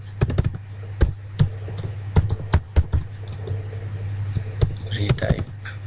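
Password being typed on a computer keyboard, with a run of sharp, irregular key taps close by over a steady low hum, slowing to scattered presses and ending in a quick cluster of clicks.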